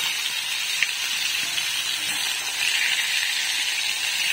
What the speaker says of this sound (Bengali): তো এখন হচ্ছে পটল ভাজা করছি।